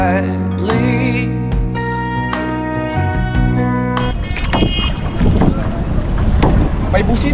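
A boat horn blasts loud and near from a bangka, a Philippine outrigger boat, near a cave in Palawan, a few sustained honks with short breaks, then wind buffeting and engine noise take over.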